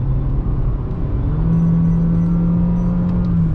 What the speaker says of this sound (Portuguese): Um CVT, ele vai gritar mais do que seria um carro com câmbio direto.